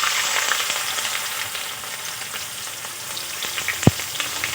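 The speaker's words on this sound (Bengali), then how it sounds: "এখন আমি গাজরগুলো কিছুক্ষণ ভেজে নেব।" Carrots frying in hot oil and ghee for fried rice give a steady, close sizzle throughout, with one sharp clack of a utensil near the end and no talking.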